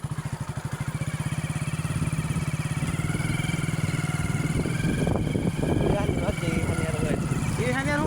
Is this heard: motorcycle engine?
yes